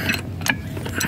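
A car jack raising a vehicle with a flat tire, giving short metallic ratcheting clicks and mechanical creaks in a quick irregular rhythm, close by.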